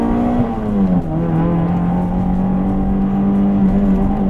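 Honda CR-X pulling away from a standstill in first gear, its engine note held loud and steady close by, a brief dip as the clutch engages before the revs climb smoothly.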